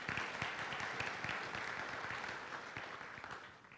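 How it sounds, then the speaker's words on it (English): Audience applause at a policy panel on reshaping restaurant menus, a steady wash of many hands clapping at moderate distance that thins toward the end, no talking over it. "let's clap for that because that is fantastic"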